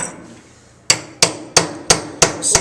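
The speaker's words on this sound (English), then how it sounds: "Wouldn't you rather have a dead blow hammer so it doesn't splay the end?" A dead blow hammer drives a wood lathe drive center into the end of a wooden blank: six sharp, evenly spaced strikes, close and loud, each with a short ringing decay, after a quiet start.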